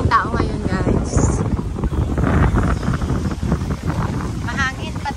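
Strong wind buffets the microphone on a crowded beach at Naked Island, a broad steady roar of gusts with a busy crowd murmuring in the background.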